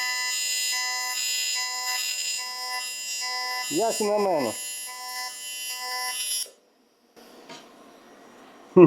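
A harsh, buzzing electric arc from a Jasic TIG-200P AC/DC TIG welder in pulse mode, pulsing steadily for several seconds with a brief voice partway through, then a sudden cutoff, near silence and faint crackling.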